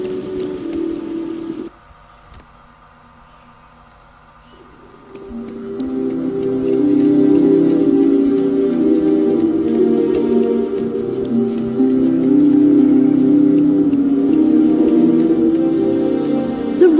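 Rain falls in a Harry Potter and the Chamber of Secrets video game scene, a dense steady patter on surfaces that thins briefly near the start, then swells back to a loud, constant downpour for the rest.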